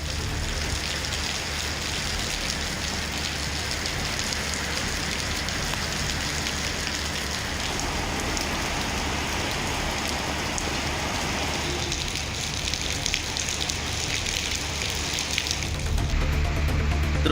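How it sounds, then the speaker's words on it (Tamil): Heavy rain pours through the night during a sudden storm with wind around Arani in Tiruvannamalai district, a dense, steady hiss of downpour that stays loud and constant throughout with no voices. "நள்ளிரவில் பெய்த மழை அரை மணி நேரத்திற்கும் மேலாக நீடித்தது"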